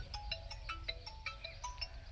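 A melodic mobile phone ringtone plays as a quick run of short electronic tones in a repeating pattern, faint and somewhat distant, with no voices over it.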